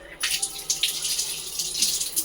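Water pours in a steady, splashy stream into a bowl, a fairly quiet gurgling that runs throughout.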